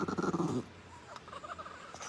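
Chihuahua growling, a brief loud rumbling snarl up close that drops off into quieter, uneven low grumbles and breathy noises.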